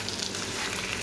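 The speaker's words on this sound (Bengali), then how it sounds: "তো আমি চাউলটাকে একটু ভাজা ভাজা করে নেব।" Broken rice grains fry dry in a pan with a continuous, even crackling sizzle at moderate loudness for a moment, heard alone.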